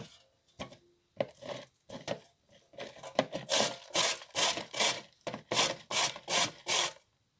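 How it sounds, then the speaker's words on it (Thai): Cauliflower being grated by hand for a cauliflower pizza crust, a few tentative scrapes and then a brisk run of loud rhythmic rasping strokes, close and alone. "ล้างสะอาดแล้วเราก็จะมาขูดกันนะคะ ใช้อันนี้ขูด"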